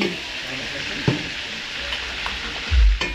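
Garlic and onion frying in a pan for a catered birthday feast, a steady close sizzle with a brief louder low thump near the end and faint background noise.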